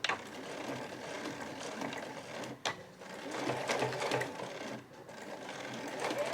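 A household sewing machine backstitches heavy No. 8 Marimekko canvas at the pocket opening of a tall tote bag, whirring continuously and close by, with one brief stop before the stitching resumes.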